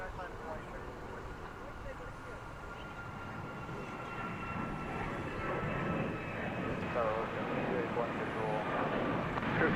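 Boeing 777 jet aircraft on the runway at DFW Airport, a broad, steady rumble that builds gradually in loudness over the clip, with voices talking over it.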